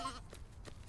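Sheep bleat faintly in the war game Burden of Command, two short distant calls over a low background hum.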